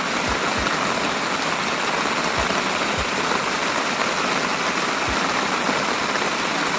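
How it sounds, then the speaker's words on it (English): Rain and hail fall on the ground on a mountain trail at the end of July, a dense steady hiss with a few scattered thumps of impacts, no talk. "there's hail bouncing off the ground"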